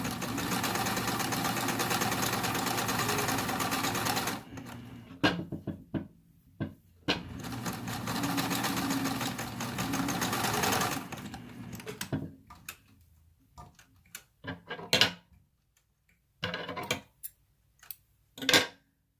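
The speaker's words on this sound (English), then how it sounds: "I'm going to go ahead and sew" A sewing machine stitching with a twin needle, a rapid mechanical whir that runs steadily at first, then comes in short bursts separated by pauses, near and moderately loud.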